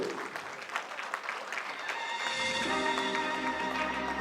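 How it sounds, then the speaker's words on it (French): Audience applause at a gala award ceremony in the Democratic Republic of Congo, steady dense clapping that swells and holds, with music rising underneath partway through. "Sous vos applaudissements"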